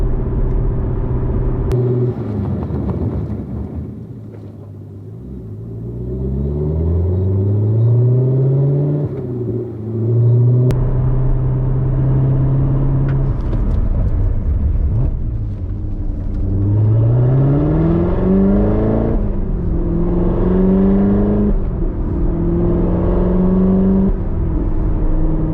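A 2019 Corvette ZR1 engine runs while its brakes are burnished, rumbling loudly close up as it repeatedly revs and rises through rpm sweeps, then drops back to idle.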